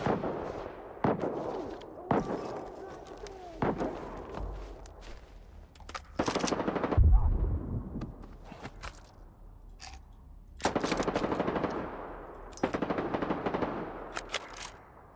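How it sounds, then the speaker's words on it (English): Full-auto rifle fire in the video game S.T.A.L.K.E.R. 2, several sharp bursts of rapid shots separated by pauses, with clatter and handling noises between bursts. "It's the only thing about using this full auto. You will run out of ammo."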